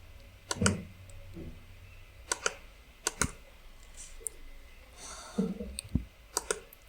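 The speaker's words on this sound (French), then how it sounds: "Et je clique sur publier." Mouse clicks while editing a WordPress site header with Kadence: a scattered run of crisp, close clicks, some in quick pairs, over a soft room hiss, with no speech.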